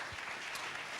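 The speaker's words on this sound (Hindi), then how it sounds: "हम जोर से ताली बजाएंगे यीशु मसीह के लिए" Congregation clapping loudly during a Sunday church service, a dense, even burst of applause filling the short moment with no voices on top.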